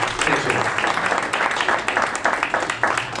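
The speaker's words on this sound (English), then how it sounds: "let's give them a round of applause" Audience applause at a youth entrepreneurship challenge after the pitches, dense steady clapping from a crowd with rhythmic peaks, sustained throughout with faint voices mixed in.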